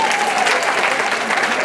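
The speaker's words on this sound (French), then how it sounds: "applaudissez." Audience at a Paris tribute gathering applauding steadily and loudly throughout, a dense sustained clatter of many hands with no pauses.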